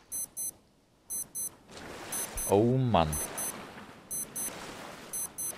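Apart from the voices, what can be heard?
warning beeping, from the video game Stranded Deep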